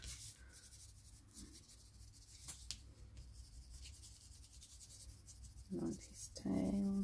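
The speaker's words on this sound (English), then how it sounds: "Now we can add more colors with pencils, a bit of shading again on the side." Soft, faint scratching of a coloring pencil shading on paper in short strokes, with a couple of louder bumps and rustles toward the end.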